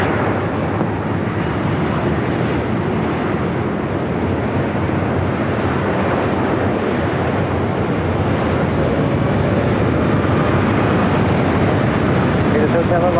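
A Boeing 787 Dreamliner takes off on runway 24 Left at LAX, a loud, steady broadband jet roar holding without a break throughout.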